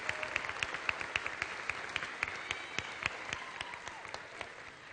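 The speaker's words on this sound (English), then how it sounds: "Can we please give them a round of applause?" Audience applause at a high school graduation ceremony, a steady wash of many hands clapping with sharp individual claps standing out, moderately distant and sustained throughout.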